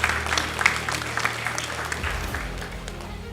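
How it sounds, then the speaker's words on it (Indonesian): A graduation crowd at the STPN ceremony claps steadily for the graduates. The applause is broad and fairly loud, and a low hum from the hall runs beneath it. "Tepuk tangan untuk kita semuanya."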